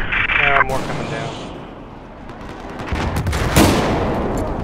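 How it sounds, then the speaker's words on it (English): Battlefield 4 dropship gunfire rattles in dense bursts amid loud in-game battle noise, with a sharp blast near the end; a voice cuts in briefly at the start. "I'm getting shot by a dropship."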